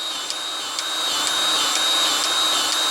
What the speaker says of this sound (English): we're going to put that on that grease fitting and then apply grease